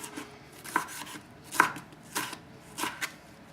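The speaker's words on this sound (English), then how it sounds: "And then the peppers, the same way. Just slice them like this." Knife slicing peppers skin side down on a cutting board for a cilantro vegetable salad: four or five crisp, evenly spaced cuts, close and clear, with no talking.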